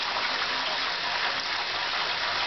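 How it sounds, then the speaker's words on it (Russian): Water rushes in an even, continuous stream through a prospector's sluice lined with moss, a steady close hiss with no pauses and no voices. "Ровненький поток воды."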